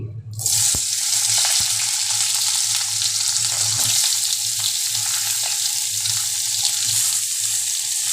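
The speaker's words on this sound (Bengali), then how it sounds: "তো আমার পোড়নটাও গরম হয়ে গেছে আমি এবার সবজিগুলো এর মধ্যে এক একে দিই" Mixed vegetables hitting hot oil with spices in a pan for a vegetarian mixed-vegetable dish, setting off a loud, steady close sizzle that holds for several seconds.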